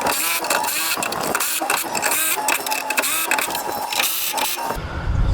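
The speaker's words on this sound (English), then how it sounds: "I'm going to tighten all the suspension now." Bolts on an enclosed trailer's suspension are tightened with a power tool, giving a loud, close, rhythmic series of whirring bursts one after another.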